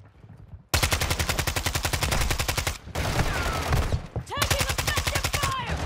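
Rapid bursts of automatic gunfire from the Call of Duty DMZ video game rattle loud and close, pausing briefly between long sustained volleys, with a faint voice underneath.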